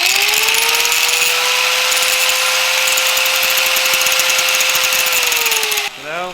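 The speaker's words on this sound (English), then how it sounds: "put it in the vise, take the grinder" An angle grinder cleans up the edges of a metal washer held in a vise, a loud steady whine with harsh grinding that cuts off near the end and winds down.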